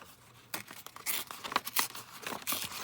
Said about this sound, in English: let's just tear that down and see if we can have that in the background